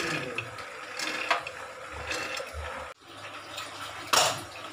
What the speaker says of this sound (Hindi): अब हम इसमें ये चना जो हम पहले से धो लिए थे इसको हम इसमें ऐड कर देंगे।